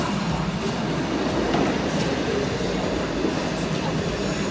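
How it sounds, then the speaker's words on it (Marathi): A train pulls into a mountain station near Grindelwald, Switzerland, its rumble and rolling wheel noise building steadily, with faint squeals and voices mixed in. "आता ही एक ट्रेन येते."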